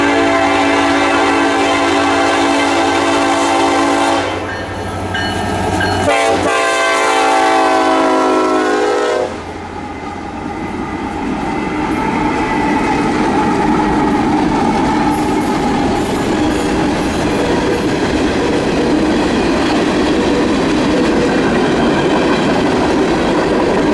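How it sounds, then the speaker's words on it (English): Norfolk Southern locomotive 1067 leads a freight train across coastal North Carolina at about 40 mph, its horn sounding loud and close before a long, steady roar of rolling cars and wheel clatter. "1067 kept its train moving at a relatively good clip somewhere near the 40-mile-an-hour mark"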